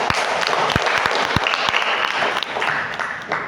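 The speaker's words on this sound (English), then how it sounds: "Please give applause for the speakers." Applause for the speakers at a student seminar session, steady clapping from a small audience with a few sharper, nearer claps standing out.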